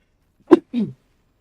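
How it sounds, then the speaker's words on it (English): A single sharp sneeze from a person, loud and close, a quick two-part burst with a brief gap, followed by silence. "I hate sneezing."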